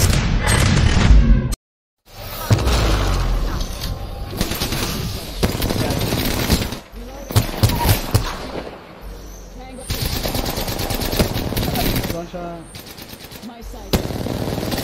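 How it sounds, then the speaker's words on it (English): Dense automatic gunfire in the video game Apex Legends: rapid bursts and single shots almost throughout, with a brief silent gap, while players talk over the shooting. "Dude, you're firing at me."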